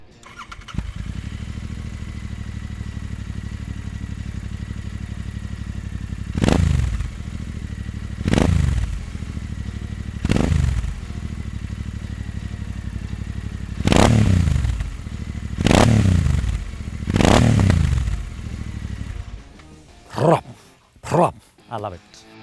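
Royal Enfield Interceptor 650 parallel twin with a slip-on performance exhaust idles in a low rumble, then is blipped six times in sharp rising revs, followed by a few quick short blips at the end.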